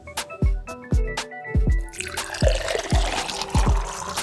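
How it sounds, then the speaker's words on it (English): Water is poured into a blender while making a berry smoothie, with a run of regular, resonant drips and glugs that gives way to a steady splashing pour, close and loud. "Add a cup of water."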